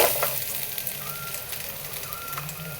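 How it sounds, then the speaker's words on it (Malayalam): Cut carrots frying in a spoonful of ghee in a hot kadai give off a steady, soft sizzle and crackle heard up close, with faint kitchen background and no talking. "ചൂടായ ചീനച്ചട്ടിയിലേക്ക് ഒരു സ്പൂൺ നെയ്യ് ചേർക്കുക മുറിച്ച് വെച്ച ക്യാരറ്റ്"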